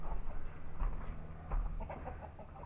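Egg-laying hens at a rural homestead cluck softly in scattered, irregular bursts, close by and unaccompanied by talk.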